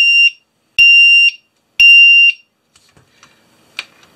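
A drone's fail-safe buzzer sounds three loud, shrill beeps in a steady rhythm, each lasting about half a second, followed by faint ticks and a short chirp in an otherwise quiet room.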